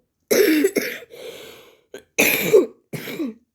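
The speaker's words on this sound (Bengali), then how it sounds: "দেখছো আমার কীরকম কাশি হয়েছে" A person with a bad cough coughs several times in short, harsh bursts, close and loud, with brief quiet gaps between them.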